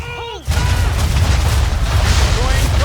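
Cannon fire from a gunboat in Assassin's Creed 3: a heavy boom breaks in and gives way to a sustained rumbling roar with crackle. A voice speaks briefly before it.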